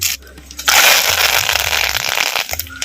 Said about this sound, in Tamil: எண்ணெய் நல்லா காய்ச்சிருச்சு ஒரு தேக்கரண்டி சோம்பு சேர்த்துக்கும் சோம்பு நல்லா பொரிஞ்சிருச்சு